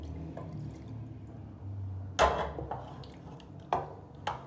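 Water drained from cooking lentils is poured into a pot of roasted chicken for a dal gosht, faint liquid sounds followed by a few sharp splashes and clinks against the pot.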